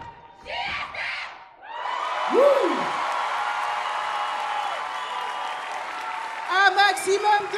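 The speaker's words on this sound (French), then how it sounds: "On peut les applaudir, on peut les applaudir." An audience at a dance school's 25th-anniversary gala bursts into loud, sustained applause and cheering that fill the room for several seconds, with a few voices heard before and near the end.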